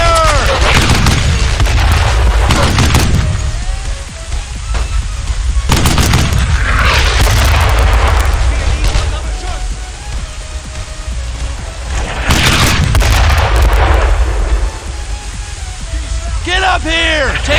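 Dense gunfire and artillery in the World War II video game Brothers in Arms, with loud continuous shooting and heavy booms in waves, a battle din that also carries shouted voices.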